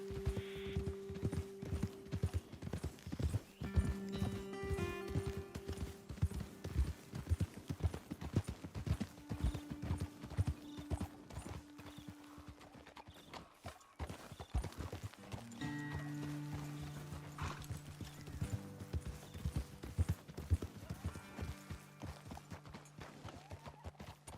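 Horse hooves clip-clop steadily on a trail in the Western game Red Dead Redemption 2, with a whinny and tonal game music layered over the rhythmic hoofbeats, and brief character talk.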